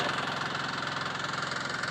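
A tractor engine running at a steady idle in a village, a close, even mechanical chugging with a rapid regular pulse throughout.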